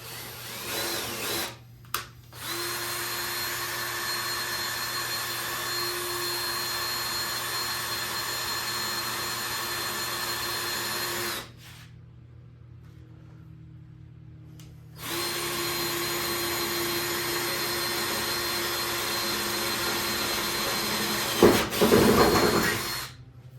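Power drill with a large bit, about 11/16 inch, bores a hole in the cut-apart body of a Ford Excursion, whining steadily in two long bursts separated by a pause, then a few clunks at the end.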